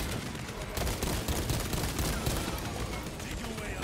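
A bolt gun fires in rapid, dense bursts in Warhammer 40K Space Marine 2, loud and continuous for a few seconds with no pause.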